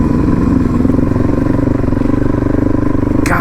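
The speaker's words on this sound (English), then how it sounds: "yeah, this motor's working hard." An adventure motorcycle's engine labors hard at slow speed while loaded with bags on Utah's rough backcountry desert route, a loud, steady, close-up drone with a continuous rumble and no talking.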